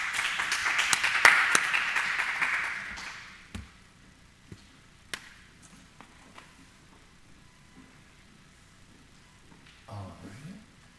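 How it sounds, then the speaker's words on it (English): Audience applause at a tech meetup after a talk, a dense burst of clapping for the first three seconds that fades out, followed by quiet room noise and a few scattered knocks. "A round of applause to Diego"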